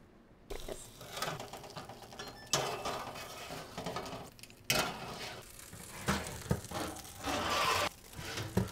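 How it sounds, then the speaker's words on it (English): A metal baking pan of chicken wings is pulled and turned in an oven, with a short run of clanks, rattles and scrapes, several sharp metallic knocks, and close handling noises between them. "we are going to now turn our pan"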